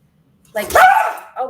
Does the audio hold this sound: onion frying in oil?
no